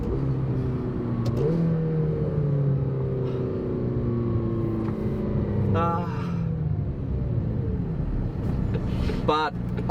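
A McLaren GT's turbocharged engine, mounted just behind the cabin, sounds through an open window as its note rises and falls under acceleration, with a turbo whoosh near the end and voices mixed in.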